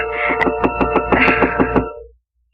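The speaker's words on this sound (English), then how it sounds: "And he knocked on the door." A radio-drama sound effect of knocking on a wooden door: about eight firm, evenly spaced raps in a steady run over a sustained musical background, which then cuts off into silence.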